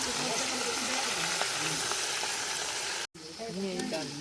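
Chilies frying in hot oil for an urad dal, a steady close sizzle and crackle that breaks off for an instant near the end, then carries on with faint voices in the background.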